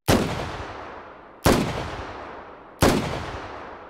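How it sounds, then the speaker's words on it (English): A .44 Magnum revolver fired in the VR game H3VR: three loud, booming shots spaced about a second and a half apart, each with a sharp crack and a long echoing decay, heard alone. "Let's fire this. This is our 44 Magnum."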